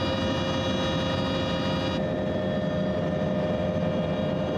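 A helicopter in flight over New Zealand gives a steady, loud, continuous engine and rotor roar with a constant drone that holds throughout, heard from inside the cabin.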